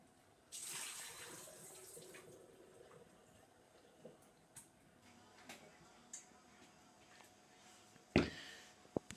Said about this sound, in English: Once the potatoes are sliced into chips, rinse them with water again